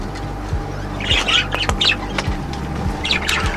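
A budgie in an aviary squawks in short, sharp bursts close by, repeating several times over a low hum.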